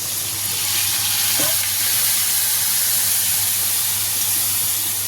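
Loud, steady sizzling of spice masala frying in a pan as water is added, a continuous hiss running throughout with no talk.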